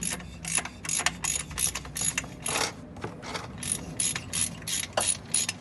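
A socket ratchet loosens the oil drain plug under a car during an oil change, clicking in steady rapid bursts with short pauses, close and fairly loud, with no talking.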